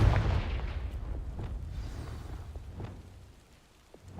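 A Confringo blast spell explodes in the Hogwarts Legacy video game, opening with a loud, deep boom that rumbles and crackles as it fades over several seconds, with a few faint pops trailing behind.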